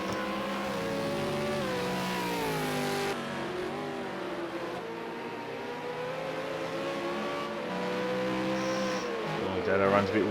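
V8 Supercar race car engines at Ruapuna Park, revving and shifting through gears as a car brakes hard into the hairpin and locks up slightly; a steady, loud engine drone with rising and falling pitch.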